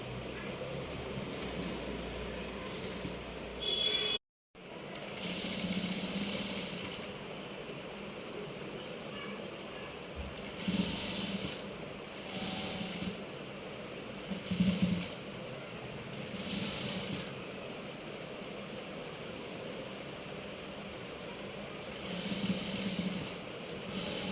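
A sewing machine stitches a long frock in repeated short runs of quick mechanical whirring, with pauses between bursts and a quiet room hum underneath.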